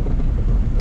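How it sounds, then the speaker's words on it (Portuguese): A rough, loud engine of a 1977 VW Passat TS drones and rattles close by, low and throaty, as the car drives along in fourth gear. "Bastante barulho aí o carro"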